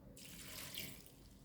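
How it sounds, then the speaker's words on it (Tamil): Water poured into a cooking pot holding beans, a soft steady splashing stream that starts abruptly and runs for over a second, faint and close. "இதில் கொஞ்சமாக தண்ணி ஊற்றிப்போம்."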